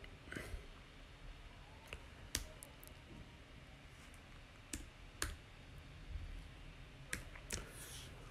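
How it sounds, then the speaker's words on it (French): A phone number typed on a phone's touchscreen while setting up a WhatsApp transfer from iPhone to Android: faint, sparse, irregular soft clicks and taps, close by, with quiet background. "Je vais taper le numéro."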